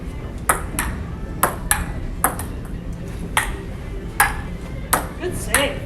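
Ping pong rally on a Joola DX30 table: a steady run of crisp, evenly spaced ball clicks off paddles and tabletop, close and loud over a constant background hum.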